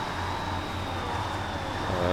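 Steady mid-low engine drone of a KrAZ 260 truck in the Snowrunner video game as it drives toward a parking lot, continuous and fairly even with a slight swell at the end.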